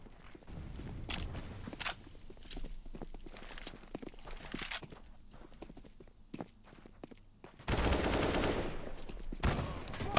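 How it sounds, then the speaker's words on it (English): A flashbang grenade goes off in a Counter-Strike match. A sudden, loud, broadband burst rings out for over a second, amid scattered gunfire and footsteps. "I'm throwing a flashbang"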